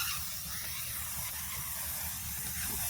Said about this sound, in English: now you can see this gentleman is spraying